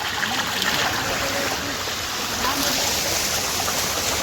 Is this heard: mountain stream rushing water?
yes